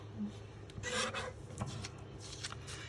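Scissors cut strips of double-sided designer series paper into 1¼-inch squares for a stamping card project. A few quiet, crisp snips and rustles are heard close up, spaced apart, with no voice.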